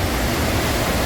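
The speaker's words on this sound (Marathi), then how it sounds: "आमच्या भारतातील नायगारा धबधबा," Bhedaghat waterfall, known as India's Niagara, thunders as a steady, dense roar of falling water, broad and continuous without any break over the short moment.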